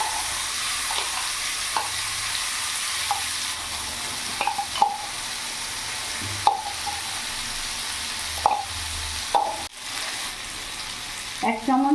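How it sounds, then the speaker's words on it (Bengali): Mustard paste fries in a pan with a tempering of nigella seeds and a dried red chilli for a hilsa curry, giving a steady sizzle broken by occasional spoon knocks and stirring scrapes. "এরই মধ্যে সর্ষে বাটাটা পুরোটা দিয়ে দেবো"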